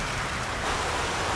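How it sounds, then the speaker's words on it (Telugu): Heavy rain pouring down in a dense, steady hiss, close and loud for the whole short stretch with nothing else audible. "ఇక్కడ బాగా వర్షం పడుతుంది"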